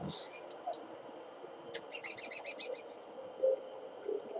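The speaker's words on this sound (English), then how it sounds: "Pretty sure butterflies don't make that noise. Maybe it was a bird." Bird chirps and short trilling calls sound in the video game Don't Starve, a quick run of faint tweets over a quiet ambient background, with no talking.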